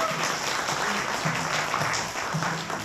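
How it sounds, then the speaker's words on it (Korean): Guests at a Korean first-birthday party (doljanchi) clap together in a banquet hall, a moderate, steady round of applause over a low murmur of room noise. "박수 부탁드리겠습니다"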